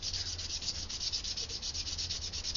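Ash being rubbed by hand onto skin for a card magic trick, a steady, fast scratchy rubbing with an even rhythm that runs without pause, close by and alone with no voices.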